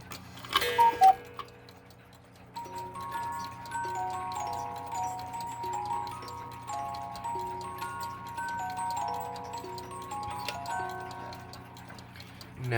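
Musical clock on the half hour, opening with a few bright chimes before a small music-box style melody tinkles along over steady ticking, close and fairly quiet.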